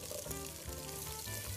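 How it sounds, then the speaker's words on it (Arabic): Onions frying in a little oil in a pan, a soft continuous sizzle heard close but quietly, with faint clatter and no talk over it. "راح أحط شوية زيت، وراح أحمس البصل عشان نجهز العيش"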